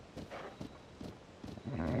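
Horse hooves clip-clop in Tears of the Kingdom, a steady run of soft, evenly spaced beats at moderate distance, with game ambience and background music swelling toward the end.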